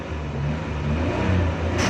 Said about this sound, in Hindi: ये देखें हमारी गाड़ी स्टार्ट हो गई है।